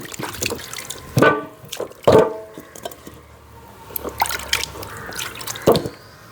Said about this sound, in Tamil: நல்ல வடிவாக 2 தண்ணியில் கழுவி எடுப்போம்